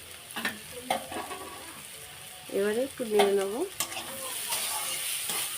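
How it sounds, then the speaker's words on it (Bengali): Onions fry in a pan and are stirred, making a soft, steady sizzle with occasional scraping, heard under someone speaking briefly close by. "পেঁয়াজটা ভাজা ভাজা হয়ে গেছে"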